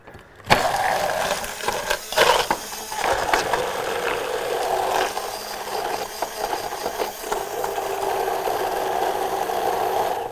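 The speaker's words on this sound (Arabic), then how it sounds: "بعد ما هيتضرب دلوقتي حالا بالهاند ميكسر او بالخلاط كده" A hand mixer or blender whirs through a garlic and thyme mixture, starting abruptly and running as a continuous loud motor drone with rattling bits.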